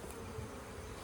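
A low, even hum of honey bees at a hive while frames and honey supers are handled, faint and continuous with no voices.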